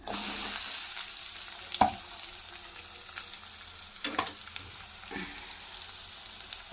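Cumin, curry leaves and onion sizzling in a pan, a quiet continuous hiss with a few crisp clinks and scrapes as the spatula stirs, close and fairly soft, with no talking.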